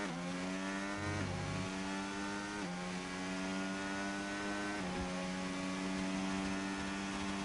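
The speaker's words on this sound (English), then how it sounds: "that's the power of the Alpine engine for you" An Alpine Formula 1 car engine in the F1 25 game hums at high revs as a continuous, steady whine with brief dips and shifts, heard alone with no talk.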